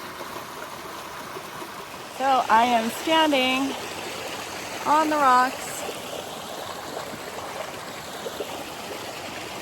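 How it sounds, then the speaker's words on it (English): Steady rushing water from a stream and distant waterfall at Green Valley Falls, Cuyamaca Rancho State Park, fills the background throughout, while a person speaks briefly over it partway through. "can hear the waterfall, still can't see the waterfall"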